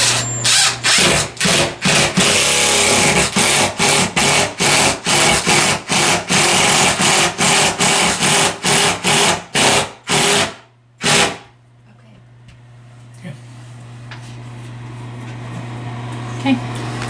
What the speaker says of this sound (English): we are leveling off the cleat for the French cleat, installing the screws to hold it to the wall.